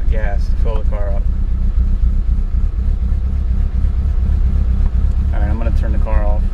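A Mitsubishi Evo 8 with a 2.3-liter engine on E85 fuel idles steadily with a low, even rumble, while someone speaks briefly at the start and again near the end.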